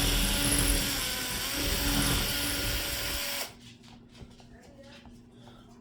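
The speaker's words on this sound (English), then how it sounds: "now I'm going to drill it" A power drill whines loudly and steadily as it bores a hole into a plastic tackle hard box, then cuts off abruptly, leaving quiet room tone with faint handling noises.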